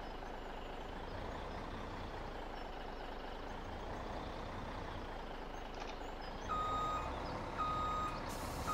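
Truck reversing beeps while a log trailer is loaded in Farming Simulator 17, repeated steady electronic tones over a constant low engine hum and machinery noise, with a louder burst of activity toward the end.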